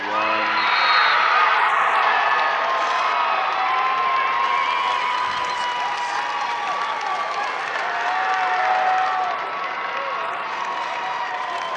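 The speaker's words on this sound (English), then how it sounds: "Crowd excited about that win." A high school state wrestling finals arena crowd roars and cheers after a match win, a broad sustained wash of applause, shouts and whoops that swells, eases, and fades near the end.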